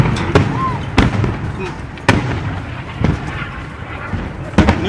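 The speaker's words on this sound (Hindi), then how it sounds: "लगातार मिसाइल से हमला किया जा रहा है" Sharp explosive bangs from a missile attack in the Israel-Hamas war zone, four or five separate booming cracks spaced about a second apart over a rumbling, noisy outdoor background.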